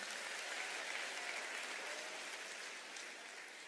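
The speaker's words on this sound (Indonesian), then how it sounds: "Para hadirin, berikan tepukan gemuruh kepada Abang Di." Broad, sustained audience applause rolls through a large hall at an unplugged concert, even and dense from start to finish, easing slightly toward the end with no speech over it.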